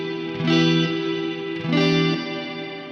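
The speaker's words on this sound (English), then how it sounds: "turn on the reverb only so that we can hear it. I'm using the New Neighbor Immerse Mark II" Electric guitar chords played through a New Neighbor Immerse Mark II reverb pedal, two strummed chords swelling and ringing out into a smooth, lingering ambient wash with no talk.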